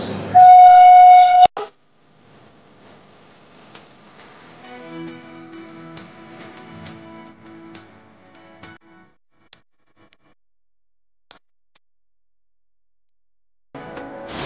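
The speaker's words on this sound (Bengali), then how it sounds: "তো আমরা শিয়ালদা ট্রেন ছাড়লো, এখন যাচ্ছি হচ্ছে হালকাবাদ লোকালে আছি।" A local train at Sealdah station's platform 9 starts off, opening with a loud horn blast, then fainter rumbling and tonal rolling sounds, a quiet stretch, and noise returning at the end.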